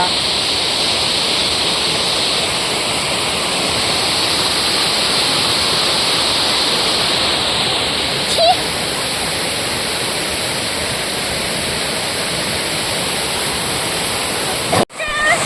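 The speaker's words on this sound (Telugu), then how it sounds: "వాటర్ ఫాల్స్, కొండ." The waterfall at Vaikunta Giri near Kasipatnam roars as a loud, steady broadband rush throughout, with a couple of brief clicks and knocks close to the microphone.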